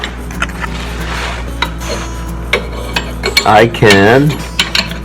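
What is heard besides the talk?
unscrewing oil pan stud on Massey Ferguson 231 tractor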